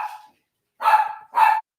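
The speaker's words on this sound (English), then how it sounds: "That would be my dog." A pet dog at home barks three times: one softer bark, a pause, then two louder, close barks in quick succession.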